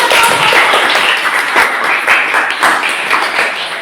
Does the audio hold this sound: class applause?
yes